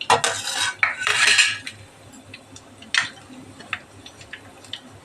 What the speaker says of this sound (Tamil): போட்டு நல்லா இலக்கி விட்டுடலாம்